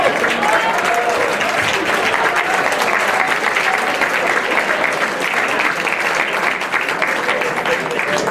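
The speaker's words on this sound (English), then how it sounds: "we'll give you all a big round of applause." An audience at an awards ceremony applauds, dense sustained clapping filling the room for the whole stretch, with a voice heard amid the applause.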